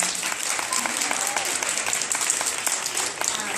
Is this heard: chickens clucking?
no